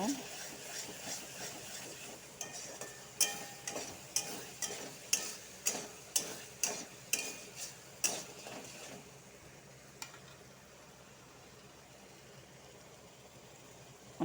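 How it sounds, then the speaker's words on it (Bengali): Spoon scraping and clacking against a pan as mushroom curry is stirred with sour yogurt, a steady run of about a dozen strokes, then softer sizzling as the stirring stops. "টক দইটার সাথে লাড়াচাড়া করব"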